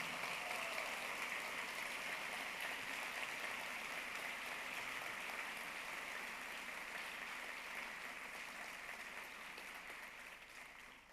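Sustained applause from a large audience at a Yale-NUS College graduation ceremony in 2018, a steady dense wash of clapping that fades gradually toward the end.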